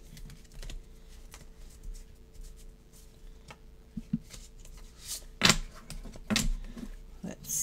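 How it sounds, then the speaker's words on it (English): A deck of tarot cards is shuffled by hand in quiet, soft riffling and patting bursts, with a few sharper flicks near the end and faint speech in the background. "I'm going to shuffle a bit too"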